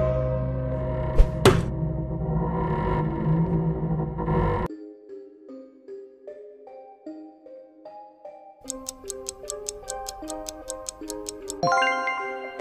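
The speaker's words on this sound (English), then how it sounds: "That's Mutant Nabnab." Mutant Nabnab, a monster from the video game Garten of Banban 7, voiced by a stretch of low droning groans that shift into a series of rising synthetic tones and rapid ticking pulses, ending in a sharp burst, with no talking.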